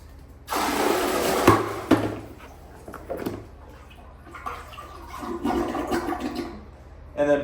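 Water poured from a bucket into a wall-hung toilet bowl splashes and gushes in several uneven surges, close and fairly loud, with brief quieter gaps between pours.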